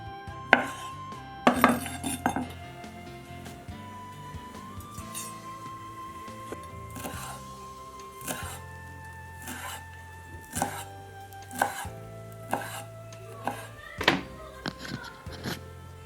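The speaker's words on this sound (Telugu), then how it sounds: "అన్నిటికీ ఫ్యాట్ తీసేసి చిన్న చిన్న ముక్కలుగా కోసి పక్కన పెట్టుకోవాలి" A knife on a cutting board chops cooked chicken gizzards into small pieces, giving scattered light knocks and clinks at an irregular pace, fairly quiet beneath a steady background hum.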